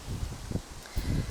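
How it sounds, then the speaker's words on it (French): Gusty wind buffets an outdoor microphone in low, uneven rumbling bursts, loud and close, with no one talking. "Dites-moi si vous m'entendez bien parce qu'il y a du vent du coup là"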